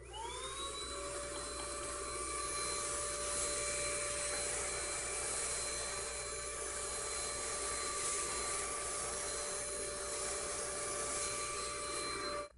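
A steady, loud hiss of RubberDip S coating being sprayed onto a panel, running unbroken for over twelve seconds with a faint whining tone under the rush and no voices.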